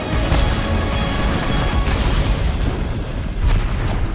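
Heavy booming explosions in the video game Devil May Cry, deep rumbling blasts, one at the start and another near the end, loud and dense with no voices.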